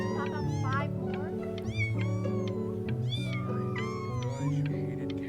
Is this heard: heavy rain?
no